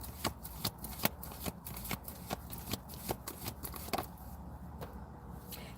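Tarot cards being shuffled by hand, a series of quick crisp riffles and soft flicks at a close, uneven rhythm.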